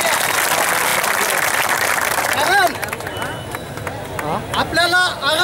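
Crowd clapping to welcome supporters at a Maratha reservation rally in Jamner, Maharashtra, a dense continuous burst of applause that thins out into crowd murmur, with whistles and voices near the end.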